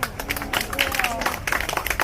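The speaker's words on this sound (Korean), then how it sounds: "박수 박수." A small audience on a Japan outreach trip claps for a designer in a short, lively burst of overlapping handclaps, close and fairly loud, with voices mixed in.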